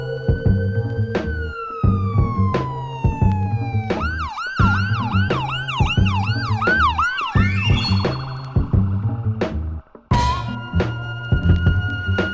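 An ambulance siren sound effect wails loud and close, first a sustained tone, then rapid rising-and-falling yelps, ending in a few sharp bursts, with no voices.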